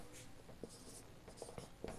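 Chalk or marker writing on a board during a Hindi language lesson, quiet scratchy strokes and taps in short uneven bursts with small pauses, close and faint in a calm room.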